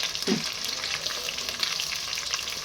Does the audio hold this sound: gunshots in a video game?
no